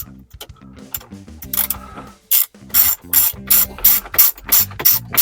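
A hand ratchet tightens 7mm bolts on a phone mount for a Chevy Colorado, with rapid clicking bursts of pawl ticks repeated in a steady rhythm, close and fairly loud.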